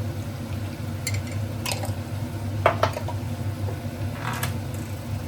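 Chicken being mixed with garam masala and chicken masala in a pan, soft wet squishing and a few sharp clinks of a spoon against the vessel over a low steady background hum.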